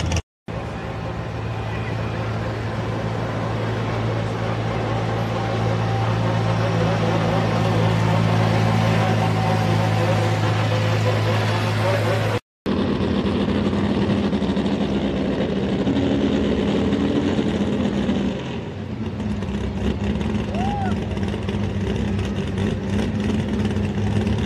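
At a truck and tractor pull, a truck engine roars continuously and loudly with a steady heavy drone, briefly cut off near the middle and then resuming, with crowd noise underneath.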